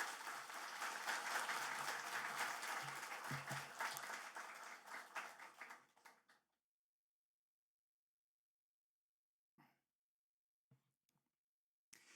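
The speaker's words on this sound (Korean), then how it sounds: "큰 박수로 우리 목사님 맞이하도록 하겠습니다" A church congregation at Sunday worship applauds to welcome the pastor with steady, moderately loud clapping for about six seconds. It then fades to near silence, broken only by a few faint isolated sounds.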